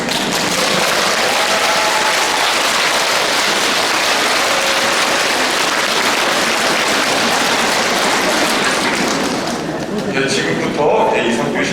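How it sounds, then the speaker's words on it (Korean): Applause for the priests at a Catholic Lenten lecture gathering in a parish church, a loud sustained crowd clapping that fills the room steadily, then thins toward the end. "신부님들 인사 박수"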